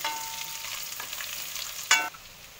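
Garlic fries with cumin in a pan, a continuous close crackling sizzle with a few stirring scrapes and a sharp clatter near the end, no voices.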